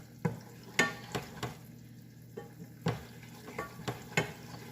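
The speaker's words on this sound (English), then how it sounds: "I'm just stirring in it." A spicy dipping sauce stirred in a pot over high heat: a series of sharp, close scraping and tapping strokes at an uneven rhythm over a faint bubbling background, with no voices.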